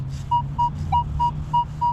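Metal detector sounding a repeated high beeping tone during a coin hunt, about six short evenly spaced beeps over a steady low hum, close and clear.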